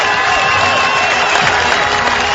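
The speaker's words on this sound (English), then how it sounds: "His teammates stand to applaud him." Loud, dense applause and cheering from a cricket crowd and teammates standing to applaud a batsman's first ODI century against Ireland, sustained throughout the short moment.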